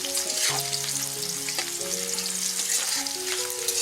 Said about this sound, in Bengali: পেঁয়াজ কুচি আমরা এবার একটু পেঁয়াজটা নাড়িয়ে